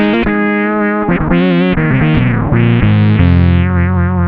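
Bass guitar run through a lead-style solo effects preset with fuzz synth, distortion and a noise suppressor, playing a loud, sustained, bright melodic line of gliding held notes, with no talking.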